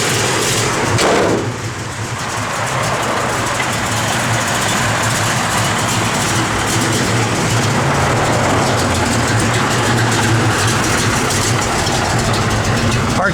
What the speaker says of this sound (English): Car's got a good sound.